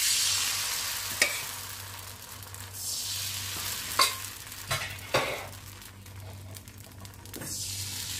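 Rice batter for vellayappam is poured into an appam pan and swirled, giving a soft hiss with a few sharp scraping clinks of metal, close by and without speech.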